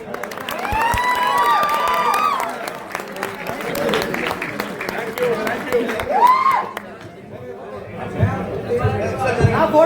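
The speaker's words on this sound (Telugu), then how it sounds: "క్లాప్స్" A fan meet crowd for a movie team claps and cheers amid lively chatter and shouting voices, a busy, near mix of applause and excited talk that swells and dips throughout.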